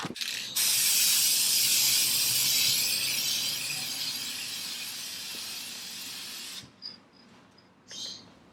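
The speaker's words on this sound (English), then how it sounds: "now I'm going to start putting the clear coat on" Clear coat is sprayed from a can onto car brake calipers still mounted on the vehicle, a loud continuous hiss lasting about six seconds, then a few short rattles and clicks.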